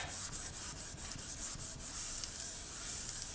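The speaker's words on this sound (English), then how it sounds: "I'm going to burnish that down to the clay" Paper is burnished down onto polymer clay with quick, rhythmic rubbing strokes, a close, dry scratchy swish repeating several times a second before settling into a steadier rub.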